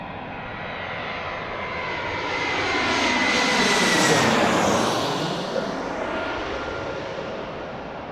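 An airliner coming in to land at Reagan National Airport, its engine roar swelling as it passes overhead and fading away, loud and continuous with a whining tone.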